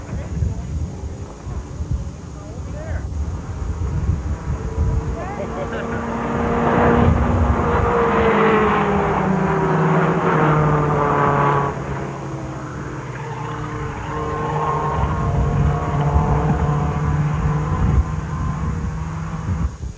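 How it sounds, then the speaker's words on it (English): Improved touring class race cars run around a track, their engines swelling and fading as they pass at middle distance, with wind buffeting the microphone and someone talking over the noise. "Behind me now is the improved touring class running around the track."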